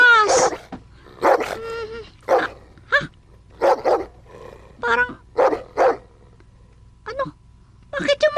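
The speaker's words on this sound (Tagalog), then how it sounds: "Kumakahulo ulit sila." Several dogs bark repeatedly in sharp, loud bursts with some yips and whimpers, spaced through the stretch, while someone speaks between and over the barks.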